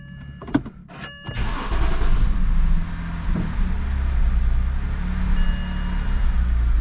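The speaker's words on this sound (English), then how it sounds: "Still got a misfire." A car engine with a misfire cranks and catches after a few sharp clicks, then keeps running loud and steady with a rough, uneven low rumble.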